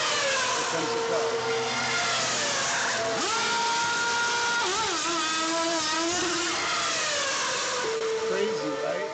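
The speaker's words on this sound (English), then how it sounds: "Watch. Here comes the car." A race car pulls in for a pit stop where crews change all four tires, its engine droning and revving with shifting pitch, while people talk over it the whole time.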